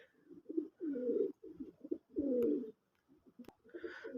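Pigeons coo close by in a series of low, rounded bursts with short pauses between them, and a faint chirp near the end.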